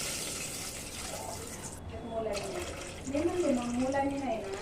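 Water pours into a cooking pot holding oil, crackled cumin and onions for a traditional horse-gram dish, a continuous filling rush that swells toward the end, with a faint voice underneath.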